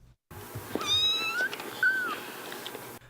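Orphaned kittens being nursed back to health give several high, thin meows close by, one after another, a few overlapping cries with no talking.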